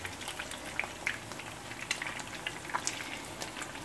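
Eggs and sausage frying in a pan, a faint crackling sizzle with sharp little pops and light stirring, quiet and unbroken by voices.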